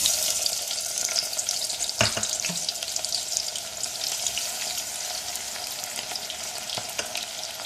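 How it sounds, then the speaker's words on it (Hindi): A medium onion sautés in a cup of hot oil for beef haleem korma, giving a constant crackling sizzle with a few sharp pops and stirring clicks, close and steady with no voices. "प्याज सौते करके फिर हम इसमें गोश्त डालेंगे"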